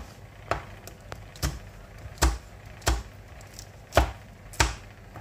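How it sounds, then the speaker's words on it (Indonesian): Chili peppers are cut with a knife, giving sharp, close chopping knocks at an uneven, unhurried pace, about one per second, over quiet kitchen background with no talking. "Kemudian cabenya juga akan aku potong-potong ya teman onlineku semua."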